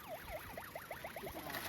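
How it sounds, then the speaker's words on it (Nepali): A vehicle siren wails in rapid repeating up-and-down sweeps, faint and distant, heard outdoors in a park in Fujioka, Gunma, Japan, with no talking over it. "साइरन बजाउँछ त्यो"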